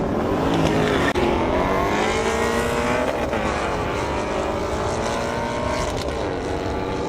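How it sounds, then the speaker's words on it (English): Drag race cars, a Ford GT350 among them, accelerate hard down an airstrip with a loud, sustained engine roar whose pitch climbs steadily through the gears and never lets up. "so could be pretty good drag race"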